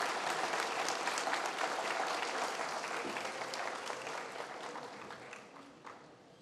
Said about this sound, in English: please give them a round of applause because they did a phenomenal job at our registration